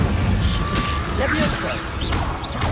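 A fire spell cast in the Hogwarts Legacy video game: a fiery whoosh with scattered impact and crackling effects over a dense, busy battle soundscape, with voices mixed in.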